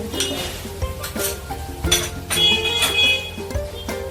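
Curd being stirred into a spiced onion curry in a pan with the gas off, giving repeated clinks and scrapes of a utensil against the metal pan in an irregular rhythm, close and fairly loud.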